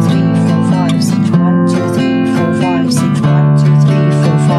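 An acoustic guitar is strummed softly with the fleshy side of the thumb in an easy worship-song pattern, a steady mellow rhythm of chord strokes ringing close and clear with no talking.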